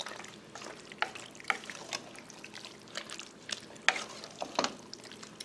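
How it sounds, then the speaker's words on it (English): A spoon stirring pizza casserole sauce around in a pan, with irregular scraping strokes and soft wet clicks over a light simmer, fairly close and with no talking. "you're going to stir this around"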